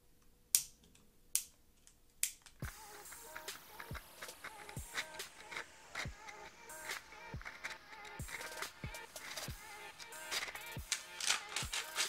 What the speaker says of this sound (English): slowly like pry on it and you'll start hearing clicking